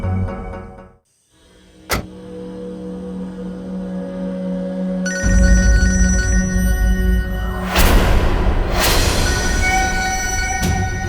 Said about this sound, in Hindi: समीर का फोन